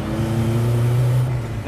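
Turbocharged car engine with twin 1.9 turbos revs up and pulls hard under boost, a loud steady low drone rising in pitch close by, with someone talking over it.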